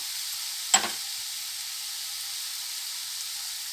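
Raw milk hits a hot pan for milk coconut barfi, giving one short splashy sizzle that quickly fades into a faint, steady background hiss.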